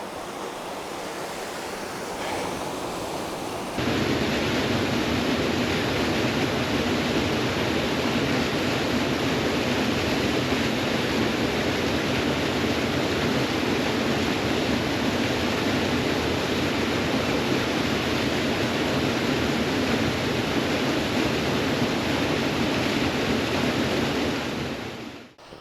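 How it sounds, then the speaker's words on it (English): Upper falls in flood, running with unusually high water, give off a loud, steady roar of rushing water that holds unchanged for about twenty seconds after a quieter start. "A lot more water in the upper falls this time than I have ever seen the upper falls."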